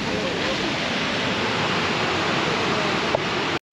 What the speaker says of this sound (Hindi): वाटरफॉल बता रहे हैं, ये देख सकते हैं वाटरफॉल